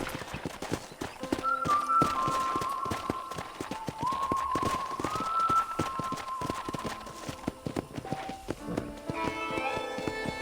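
Steady clip-clop of horse hooves as a rider travels across a ranch in Red Dead Redemption, with a light rhythmic beat under background music.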